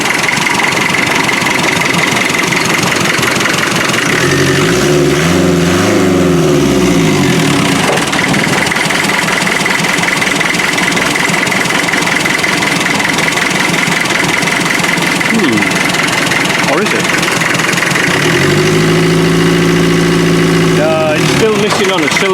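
A rough-running 25 NA glow engine with a misfire putters and knocks unevenly. Its beat wavers, with two stretches where the pitch rises and falls, and someone speaks intermittently over the close, loud running.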